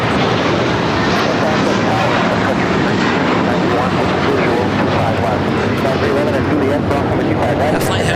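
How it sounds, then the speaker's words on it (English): An American Airlines A321 jet bound for Orlando at LAX airport produces a loud, continuous broadband roar that fills the whole stretch at steady strength. "A flight heading to Orlando, Florida, American Airlines Flight 1784 and an A321."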